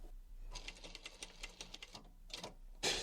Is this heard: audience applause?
no